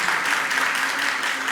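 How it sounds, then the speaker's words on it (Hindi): Steady applause from a gathered audience at a religious question-and-answer session in Shikharji, dense and continuous, with no voices on top. "एक बार इस बच्ची के लिए जोरदार ताली हो जाए"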